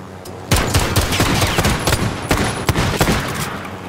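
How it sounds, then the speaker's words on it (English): Rapid automatic gunfire from the video game Call of Duty Warzone bursts in loudly after a brief pause and runs as dense overlapping volleys of shots to the end. "We're getting shot at?"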